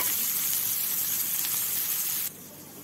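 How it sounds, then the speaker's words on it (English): Onions frying in oil make a steady, close sizzling hiss that continues evenly, then drops abruptly quieter near the end. "and the onion. I'm going to fry them well."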